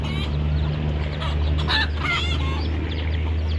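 Several chickens, roosters among them, cluck and squawk close by in a busy, overlapping chorus over a steady low background hum.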